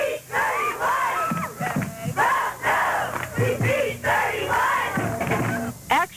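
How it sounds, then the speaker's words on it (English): A large crowd of over a hundred high school students from Green Hills and Forest Park yells and cheers at an outdoor election pep rally on a commons, loud overlapping shouts and whoops rising and falling throughout. "Over 100 students from both Green Hills and Forest Park High Schools held an election pep rally of sorts"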